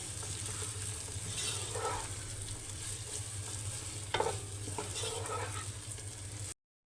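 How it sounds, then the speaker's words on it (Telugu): Chopped onions fry in hot oil for Tamil Nadu mutton biryani, a continuous sizzle with scraping stir strokes and a sharp clink of the spoon against the pan partway through, close and steady before cutting to silence. "ఆనియన్స్ వేసుకొని బాగా కలుపుకోవాలి"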